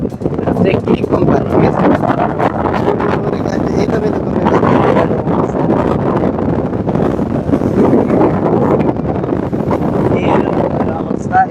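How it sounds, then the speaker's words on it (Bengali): Large so-called helicopter fan at a hosiery workshop blowing strong wind, a loud continuous roaring rush of air close to the microphone, with someone talking over it. "এটার নাম দিয়েছি আমরা হেলিকপ্টার ফ্যান। প্রচন্ড বাতাস ভাই, তুফানের মতো চলে।"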